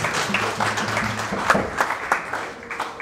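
Steady applause from a group, a dense patter of claps with a few sharper individual claps standing out, at moderate loudness.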